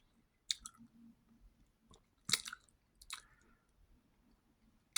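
Mouth working a sip of Maker's Mark Cask Strength bourbon, a few wet smacks and clicks of the tongue and lips spaced irregularly, close and quiet against near-silence.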